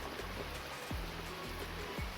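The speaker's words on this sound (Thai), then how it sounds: "ฝนตกครับ ออกไปข้างนอกไม่ได้เลยวันนี้" Heavy rain falls in a rural farmyard setting as a steady, even wash of hiss. It is fairly faint and continuous, with a low background hum and no voices.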